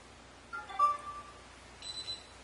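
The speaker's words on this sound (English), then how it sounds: "That sound you just heard was the phone processing the tag successfully." A phone beeps as it reads an NFC tag in a home automation setup, followed a moment later by a short chirp from an alarm panel; both tones are faint and brief in a quiet room.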